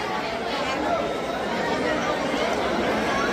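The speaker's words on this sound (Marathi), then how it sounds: "बघू शकता गाईस केवढी गर्दी आहे यार" A large crowd of pilgrims gathers at Shyam Kund by the Khatu Shyam temple, making a steady, dense babble of many overlapping voices that never lets up.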